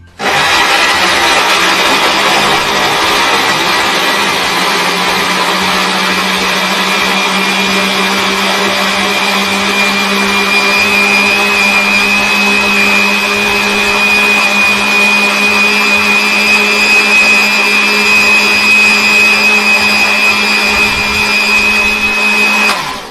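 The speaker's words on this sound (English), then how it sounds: "You know you can't blend dry things." A blender runs steadily for over twenty seconds, blending tomato puree with a loud, even motor whine and a churning hum that holds without a break.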